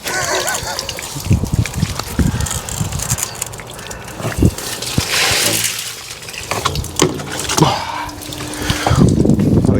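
Water gushes and splashes out the bottom of a blocked guttering downpipe as it is lifted, a loud, continuous, uneven outpour with clattering knocks from the pipe and occasional movement noise throughout.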